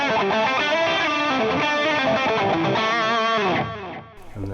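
Electric guitar played through a distortion pedal, a loud, saturated run of sustained chords and notes that rings steadily, then cuts off and fades near the end.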